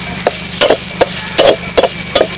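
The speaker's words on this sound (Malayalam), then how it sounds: "ഇനി നമുക്ക് നല്ല ഇതിൻ്റെ പച്ചമണം മാറുന്ന വരെ ഒന്ന് വറുത്തെടുക്കാം" Grated coconut and curry leaves roasting in a pan, with a steady low sizzle broken by about seven quick, uneven scrapes and stirs of a spatula close by.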